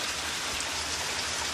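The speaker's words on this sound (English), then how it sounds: "With this type of rain that is falling, brother." Steady rain falls on garden plants in rural Jamaica during a May shower, a soft, even, continuous patter and hiss with no voices.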